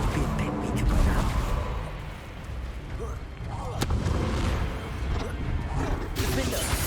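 Confringo spell blasts in Hogwarts Legacy on PC burst out amid a constant, dense wash of combat noise, with booming impacts and whooshes piled together, and game voices present.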